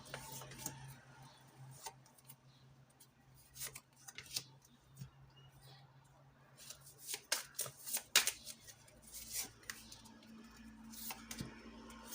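Tarot love cards being shuffled and drawn by hand, giving a run of soft riffling and flicking card sounds in uneven bursts, busiest toward the middle, close and fairly quiet, with no talking.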